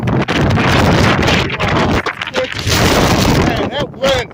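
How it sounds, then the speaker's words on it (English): Strong blizzard wind during the Christmas 2022 winter storm roars and buffets the microphone in loud, continuous gusts, dipping briefly now and then, with people talking underneath. "Man, that wind."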